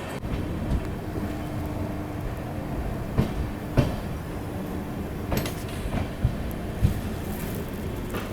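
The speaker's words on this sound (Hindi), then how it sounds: "बस अभी दिल्ली कैंट रेलवे स्टेशन पहुंचने वाली है अपनी ट्रेन" The Swarn Nagri Express rolls near Delhi Cantt station, a steady loud rumble from inside the train with occasional clicks and knocks of wheels over rail joints, no voices.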